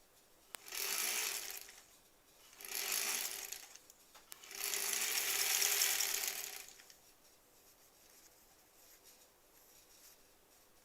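A sewing machine runs through the final seam of a granny squares quilt in three separate bursts of rapid stitching, each a few seconds long with short pauses between, close by, then falling quiet.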